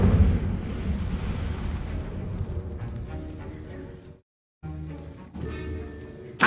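Incendio fire spell cast in Hogwarts Legacy, a dense roaring burst of flame and rumble that fades, cuts to a brief silence, then resumes with layered magical effects and a sharp final flare.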